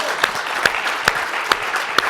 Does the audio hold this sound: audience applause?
yes